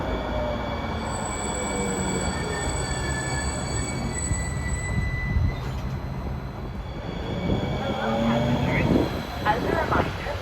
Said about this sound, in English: here we have a Tenelli Avenue bound train coming in